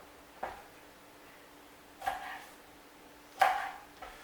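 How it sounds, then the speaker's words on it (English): A kitchen knife chops through a small onion for a yogurt and mint raita: about four sharp, separate board strikes spaced a second or more apart, close and fairly crisp, with no talking. "So let me chop these up."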